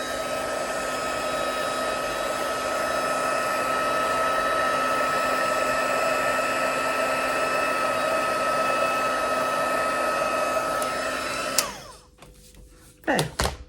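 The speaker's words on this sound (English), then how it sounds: "So close that again before I get the heat gun out." A heat gun used for heat embossing on a papercraft box runs with a loud, steady whir for about eleven seconds, then switches off, followed by a few handling knocks.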